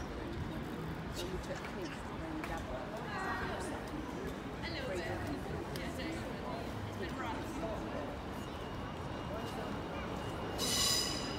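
An East Midlands passenger train rumbles past the Lincoln High Street level crossing, a steady rolling roar of wheels on track throughout, with faint chatter and birds nearby and a brief bright bell-like ring near the end.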